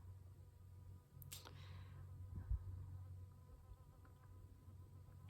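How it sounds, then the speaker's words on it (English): A bee buzzes faintly near the microphone, a low steady drone against quiet background noise, with a brief passing whoosh. "Oh, it's a bee."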